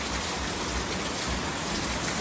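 Heavy rain pours down in a dense, steady roar of drops on surfaces, loud and unbroken throughout, with no voices heard.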